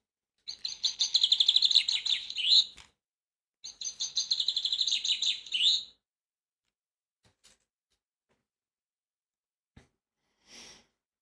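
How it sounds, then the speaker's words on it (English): A finch in a video game sings two bright, rapid trilling phrases of about two seconds each, clear and near, followed by a few faint ticks and a short final chirp. "This here be a finch."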